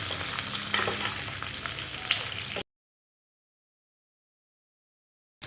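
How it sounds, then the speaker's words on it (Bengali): Pieces of chalta (elephant apple) fry dry in a pan without salt or turmeric for a sweet pickle, giving a steady close sizzle with a few light stirring clinks before the sound cuts to silence. "আমি এবারে একটু ভালো করে ভেজে নেব চালতাটা"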